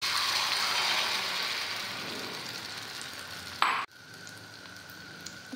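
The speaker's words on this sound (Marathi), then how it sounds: "आपला तवा गरम झालेला आहे, त्यावरती आपण तेल टाकून घेतलेलं आहे आणि आता आपण यावरती आपलं अंडा आमलेटचं मिश्रण टाकून घेणार आहोत." Omelette egg mixture with onion and garlic hits a hot oiled griddle at a street food stall, a steady bright sizzle that fades gradually, broken near the end by a brief scrape and clatter.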